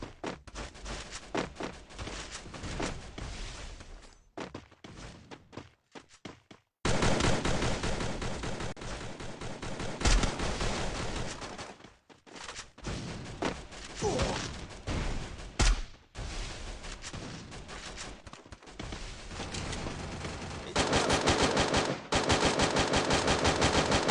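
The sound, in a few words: gunfire in the video game Free Fire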